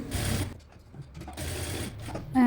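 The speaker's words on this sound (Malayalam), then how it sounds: "ആദ്യം ആ ഒരു സ്ട്രാപ്പ് ഉണ്ടല്ലോ അത് സ്റ്റിച്ച് ചെയ്തെടുക്കുക" A sewing machine stitches a fabric strap for a baby frock, running in loud mechanical whirring bursts with a short pause between runs and a brief high tone at the end.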